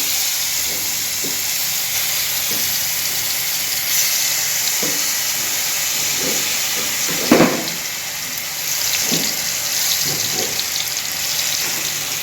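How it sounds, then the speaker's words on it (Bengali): Apple paste goes into hot ghee for apple payasam, raising a broad hiss of sizzling and steam with scattered stirring clinks and one louder splash partway through. "ঘিটা একটু গরম হয়ে গেছে এবারে আপেলের পেস্টটা আমি দিয়ে দেবো"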